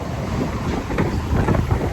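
Strong wind roars and buffets steadily against the microphone, a dense rushing noise with gusty surges throughout.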